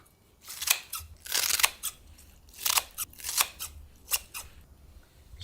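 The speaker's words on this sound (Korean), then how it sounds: "가위로. 너무 커도 안 되지만 너무 작아도 안 돼요. 그래서 한 2cm 길이 정도 썰어주세요." Scissors snip aged kimchi into pieces about 2 cm long, producing a series of crisp, crunchy cuts in irregular bursts, close up and with no talking.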